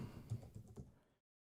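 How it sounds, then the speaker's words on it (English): Short burst of computer keyboard typing, a handful of quiet, quick keystrokes over about a second, close and alone. "And I activate it by typing Lebesgue"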